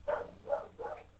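A pet dog gives three evenly spaced barks or yips, somewhat distant and moderately loud, during a casual online discussion show with no speech over them.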